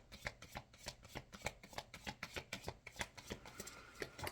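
Tarot cards shuffled by hand before a draw, a quiet rhythmic run of soft flicking riffles close to the listener with no talking.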